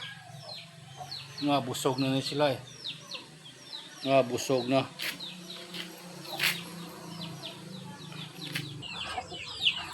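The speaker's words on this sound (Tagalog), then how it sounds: "Yung mga manok ng tambay ha." Backyard chickens cluck softly and intermittently at close range on a quiet rural Filipino homestead, mixed with chirps and short calls while someone speaks over them.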